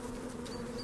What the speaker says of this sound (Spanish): Las abejas quieren abandonar la colmena